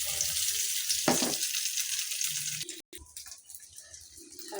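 Beaten egg is poured into hot oil in a pan and fries with a steady, soft hissing sizzle, with a brief clatter partway through.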